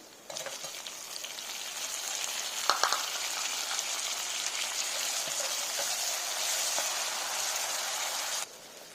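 Onions and tomatoes frying for Godavari-style koyyanga fish curry make a steady, rain-like hiss that holds at an even level with a few stirring clicks, then cuts off abruptly near the end, with no voices.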